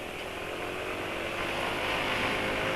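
A Yamaha NMAX scooter engine idles close by with a steady, continuous drone and a faint rattling texture. It holds constant loudness throughout with no voices.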